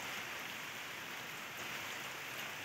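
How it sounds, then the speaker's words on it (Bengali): Rain falls outdoors in a steady, soft, even hiss that continues for the whole short stretch, fairly faint, with no voices. "বাইরে বৃষ্টি হচ্ছে"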